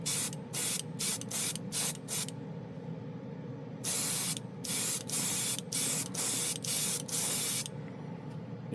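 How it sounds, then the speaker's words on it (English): Repeated short bursts of chrome spray paint hissing from an aerosol can, one long continuous spray in the middle, over a steady low hum. "Even a fool could spray this."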